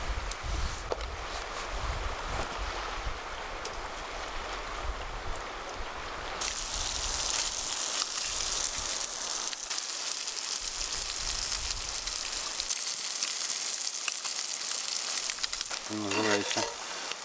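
Unscaled pike bellies fry in a pan on a stove in the taiga, a continuous hissing sizzle that swells louder midway and crackles on steadily, close and alone with a short low knock near the end.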